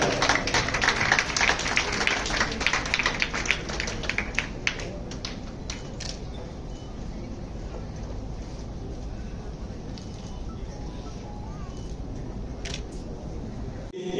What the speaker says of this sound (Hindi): एक बार परिधि के लिए जोरदार तालियां हो जाए।